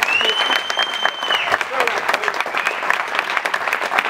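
An audience at a Prospects Q&A event gives a round of applause for Seb, Alan, George and Marlon. The clapping is loud and sustained, with a whistle or cheer rising over it near the start.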